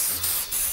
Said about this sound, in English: let's just spray down the studio real quick here.